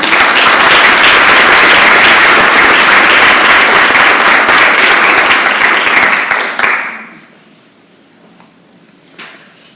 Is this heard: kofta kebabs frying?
no